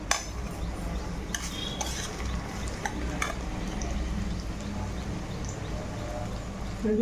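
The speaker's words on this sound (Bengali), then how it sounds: "পেঁয়াজটাকে এবার লাল করে ভেজে নেব" Onions frying in oil in a pot until browned, for a spiced goat trotter curry: a steady sizzle runs throughout, with occasional clinks of a spoon stirring against the pot.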